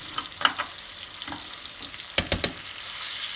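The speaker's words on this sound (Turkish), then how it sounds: "Şekerimiz karamelize oluyor yavaş yavaş." Butter going into caramelizing sugar in a pan, a bright crackling sizzle with scattered pops and a louder burst of spitting near the end, close and continuous.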